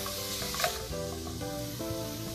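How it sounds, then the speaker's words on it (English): Food with paprika sizzles in a hot pan as it gets stirred, a steady soft frying hiss running under background music with one brief scrape, fairly quiet. "Stir that around a little bit."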